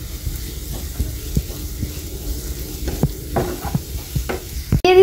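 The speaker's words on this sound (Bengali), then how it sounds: "পেঁয়াজের কলিটা দেওয়ার পর আমি 1 মিনিট ভেজে নেব। আমি অ্যাড করে দিচ্ছি ধনেপাতা কুচি।" Spring onion stalks and chopped coriander sizzle in a hot pan with a steady frying hiss, while scattered utensil scrapes and taps sound close by and a brief clatter comes near the end.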